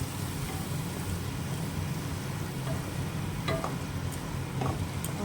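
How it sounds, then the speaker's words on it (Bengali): Colocasia and fish sautéing in oil with a splash of water: a faint, steady sizzle with a few soft utensil clicks, close but quiet. "অল্প জল দিয়ে এবার ভালো করে কষিয়ে নেবো তত সময় তেল না ছাড়বে"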